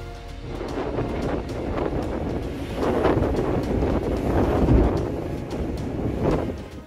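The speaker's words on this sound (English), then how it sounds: "the strong wind gusts brought by Storm Debbie" Strong gusts from Storm Debbie in Ireland roar steadily outdoors, buffeting the microphone with rising and falling surges and scattered clatters throughout, loud and with no talking.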